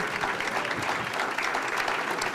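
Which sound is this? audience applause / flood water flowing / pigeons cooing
audience applause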